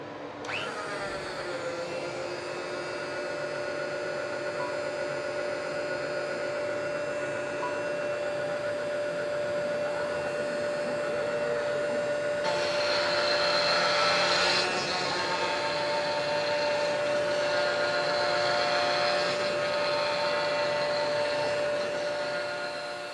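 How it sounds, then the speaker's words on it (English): CNC machine milling a wooden board flat, a continuous loud whine and rushing hum of the spindle and cutter over twenty seconds, swelling slightly midway as the bit bites deeper, steady and close with no talk. "it will machine this entire board down and machine away half a millimetre at the lowest point"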